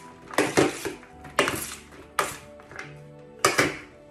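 Quinoa salad with sesame seeds tossed in a bowl, four distinct bursts of utensil scraping and clinking against the bowl, separated by short pauses, close and moderately loud.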